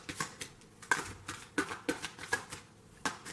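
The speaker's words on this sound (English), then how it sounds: "once I get done shuffling the deck" Tarot cards being shuffled by hand, a run of crisp riffling and flicking bursts with sharp accents roughly every half second, close and fairly quiet, with no talking.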